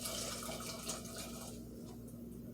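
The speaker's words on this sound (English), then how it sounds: "So a cup of water." Water pours steadily into a cooking pot for rice pilaf, a soft continuous splashing that is fairly faint and trails off near the end.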